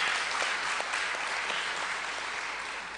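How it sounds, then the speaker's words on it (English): Audience applause for a panel at a commission of inquiry session: steady, dense clapping from a large crowd, sustained evenly and tapering slightly toward the end. "big round of applause"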